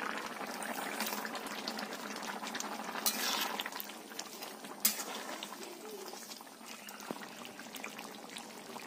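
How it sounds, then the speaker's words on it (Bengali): Fish and potato curry broth with eggplant simmering in a pot, soft bubbling and gentle liquid gurgle with occasional clinks of a utensil, fairly quiet and close, no voice. "ঝোলটা আমার ফুটছে"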